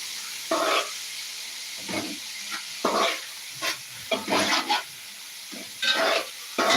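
Chopped onions with salt fry in a pan for fried rice, stirred in repeated scraping bursts over a soft sizzle, with short pauses between strokes and no voices.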